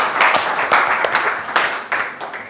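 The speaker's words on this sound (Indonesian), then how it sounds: "Kasih aplaus untuk kita semua" A classroom group claps hands together, a loud, close, uneven patter of individual claps that carries on for a couple of seconds and then starts to thin out.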